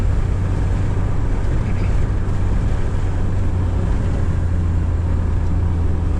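A 2003 Fiat Doblo with a 1.9 diesel turbo engine drives along, a loud continuous low engine drone mixed with road and wind rumble, heard from inside the cabin without talk.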